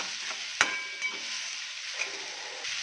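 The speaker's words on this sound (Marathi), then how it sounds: "बेसन ॲड करूया छान याला परतून घेऊया व्यवस्थित" Gram flour (besan) roasting in oil in a pan while being stirred, a continuous soft sizzle with a sharp spoon clink near the start and light scraping.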